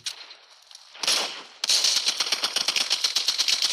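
Rapid bursts of gunfire in the video game Arena Breakout ring out, first a couple of shots, then a fast rattling volley of repeated cracks like automatic weapon fire.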